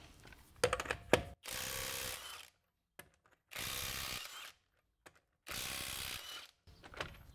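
A Ryobi power tool powered by a regular 4 amp hour battery runs in three sustained bursts of about a second each, separated by silences, with sharper mechanical clicks and rattles just before the first run.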